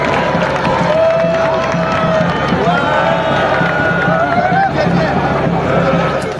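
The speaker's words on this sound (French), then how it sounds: "sous les applaudissements frénétiques de la foule ivre de joie" At the launch of erosion-control works in Dongo, a large outdoor crowd cheers and claps wildly, a dense, loud, sustained roar with shouts and whistles rising out of it.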